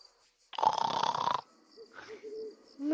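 A voice imitates a loud, rasping snore during a tabletop role-playing game, one drawn-out burst up close, followed by quieter vocal sounds and the start of speech.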